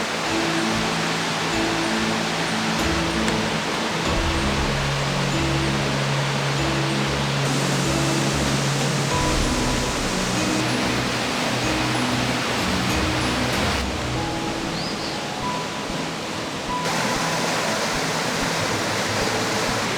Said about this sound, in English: where the water is purely white just because of how fast it's moving constantly all year long